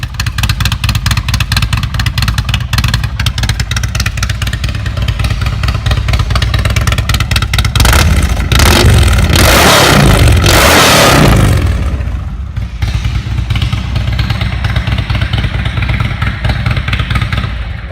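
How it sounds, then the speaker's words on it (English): An Indian motorcycle fitted with a modified Vance & Hines exhaust idles with a loud, pulsing hot-rod rumble, then revs hard through a surge in the middle before settling back to a steady lope. "I got myself a nice little hot rod sound"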